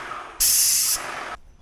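A Magnum X5 airless paint sprayer gives a loud, sharp hiss in a burst of about half a second, then a softer continuous spray for about another half second before it cuts off.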